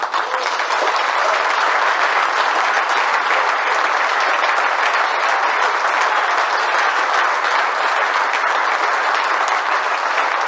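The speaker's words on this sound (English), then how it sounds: "I'm sure you'll all join me in giving a big round of applause" Sustained applause from an audience at an IT industry awards event, a dense, even wash of many hands clapping at full strength for the whole stretch, with no talk over it.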